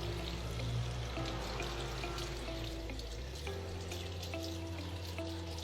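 Tap water runs steadily into a sink while hands are rinsed after washing, a continuous splashing hiss with no talk.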